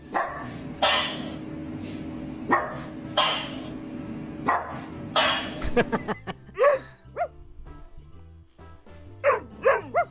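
Two or more dogs trade barks in a barking contest, single loud woofs spaced apart at first, then a cluster of sharper yips and whimpery barks, close and fairly loud with little talk.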